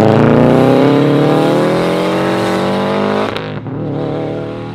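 A car accelerates hard out of a cars and coffee meet, its engine note climbing steadily and loud and close, then dipping abruptly near the end as it shifts and pulls away.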